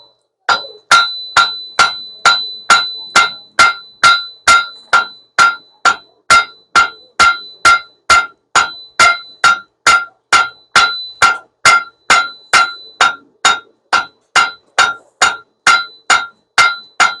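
A forge-welded piece of metal is hammered in a steady, even rhythm, about forty sharp ringing blows over seventeen seconds, loud and close with no talking.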